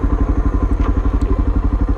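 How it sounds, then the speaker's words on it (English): Suzuki DR650 motorcycle engine running steadily with a deep, rhythmic thumping pulse and light mechanical clatter, loud and close throughout with no talk. "Hopped on the mighty DR650."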